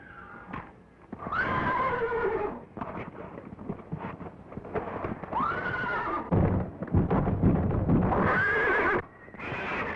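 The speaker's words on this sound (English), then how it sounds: "You sure handle that horse, Mr. Sheldon." A horse neighs and whinnies repeatedly at a 1930s ranch, with hooves clopping beneath the calls; the sounds come close and fairly loud, interspersed with brief movement noise and no speech.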